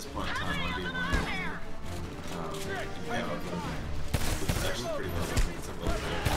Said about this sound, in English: I shot him in the throat and he didn't die